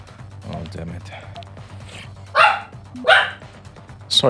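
A dog barks a few times in the background of a home setting, with short sharp bursts around the middle and end, while someone talks over a video game.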